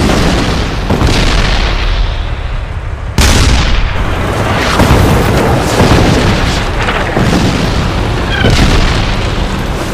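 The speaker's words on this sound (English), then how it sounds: "The South Vietnamese open fire with deadly accuracy. "11 enemy tanks are hit." Heavy tank cannon blasts and explosions boom repeatedly as enemy T-54 tanks are hit in a Vietnam War armoured battle, each loud impact followed by rumbling debris and crackling fire.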